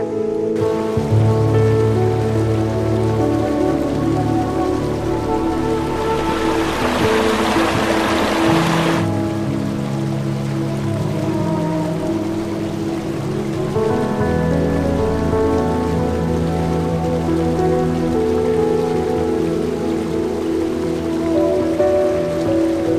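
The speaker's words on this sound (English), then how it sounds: "This is step 1 waterfall, and down there is step 2" A waterfall pours in a continuous dense rush of falling water, close and loud, with a brief brighter hiss partway through and no voices.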